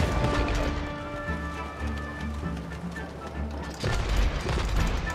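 Booming cannon fire with crashing impacts in the video game It Takes Two, loud and repeated, over a steady engine-like drone and busy background effects.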